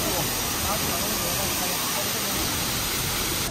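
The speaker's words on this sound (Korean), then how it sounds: "폭포수 소리 한번 듣겠습니다" Waterfall water pouring beneath Yunbu Bridge on Mount Tai, China, after heavy rain, a steady, dense rushing roar with no breaks, close and loud throughout.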